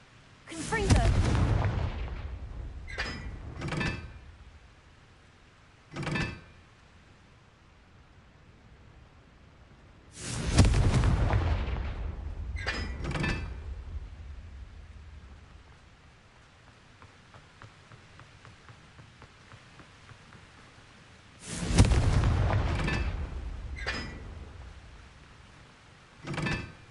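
Three separate blasts from the Confringo explosive spell in Hogwarts Legacy, each a loud burst followed by a short crackling tail and brief echoing impacts, spaced several seconds apart with quiet gaps between.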